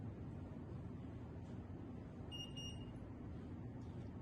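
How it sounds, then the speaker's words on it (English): An insulin pod being filled with insulin through a needle gives a short pair of high electronic beeps to signal it is minimally full, heard faintly over steady room hiss with no talking. "The beep letting me know that it's at least minimum full that I can use it."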